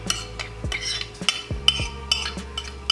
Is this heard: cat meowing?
no